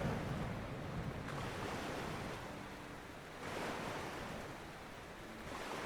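Stormy sea in Bannerlord with wind over ocean waves and sails still up: a steady roar of surf and gusting wind swelling and easing in broad surges, with no voices.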